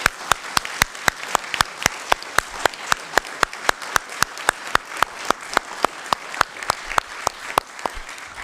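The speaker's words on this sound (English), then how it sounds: "I think we should all give them a big round of applause for everything that they've done." Applause at a council meeting, a small group clapping in a slow, regular rhythm with distinct sharp claps close by, continuing steadily throughout.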